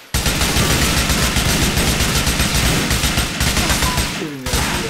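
Rapid bursts of gunfire from Grand Theft Auto IV hammer away almost nonstop at close range and high volume, with brief gaps between the volleys.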